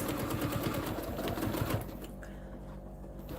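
A sewing machine stitches a French seam with a 3/8-inch allowance on a lace-zipper project pouch, running in a fast, steady rhythmic whir for nearly two seconds before stopping, leaving a quiet hum.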